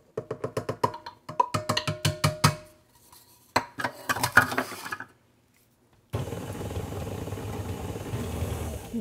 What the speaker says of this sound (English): Mix that and scrape the bowl a little bit.